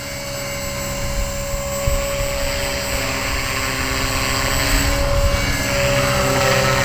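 A small Align 250 RC helicopter hovers in a steady test flight, giving a continuous high-pitched rotor and motor whine that holds nearly constant and swells slightly toward the end, with no voices.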